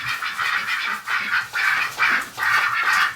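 Muscovy and Rouen ducks in a pen under heat lamps give repeated close, raspy quacks and squawks in a steady, overlapping rhythm, with no voices.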